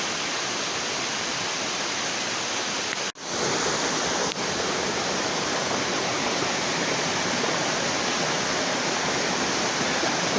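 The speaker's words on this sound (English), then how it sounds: "All the water coming off from the waterfall here" Gorman Falls waterfall spilling into a stream toward the Colorado River, a steady, dense rush of falling water that fills the whole clip, close and loud, with no voices.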